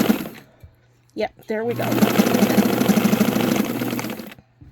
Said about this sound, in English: I got a little piece of fabric there behind, and then I'm just going to start sewing.